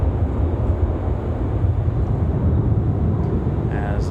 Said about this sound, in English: One of the Cargo Masters coming off of runway 32.